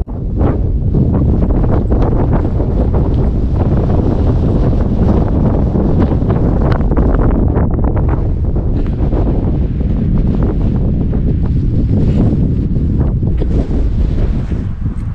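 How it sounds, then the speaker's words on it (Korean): Strong wind blasting across a mountain paragliding launch site at 636 m elevation, a constant loud roar and rumble buffeting the microphone for the full length, with no voices. "여기가 지금 패러글라이딩 활공장인데요, 바람이 엄청 불고 있어요."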